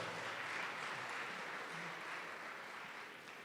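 Audience at a NetIP talk by Preet Bharara bursts into applause, a dense, fairly faint wash of clapping from a crowd that fades slightly at the end.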